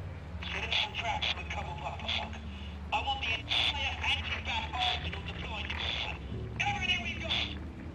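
Old telephone in the Batman: The Telltale Series video game, giving a steady ringing, buzzing electronic tone that persists through the clip alongside game music and characters talking.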